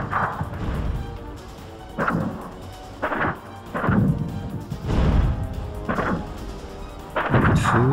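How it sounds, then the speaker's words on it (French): Repeated heavy bursts of gunfire and dull, muffled blasts, coming in uneven clusters over a low rumbling background. "Mitrailleuses, explosions étouffées, les forces spéciales étaient maintenant au contact de l'ennemi"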